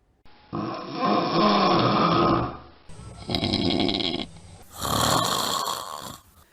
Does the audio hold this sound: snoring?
yes